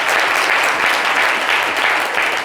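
Sustained applause from a studio crowd during a live broadcast, loud and continuous throughout with no talk over it.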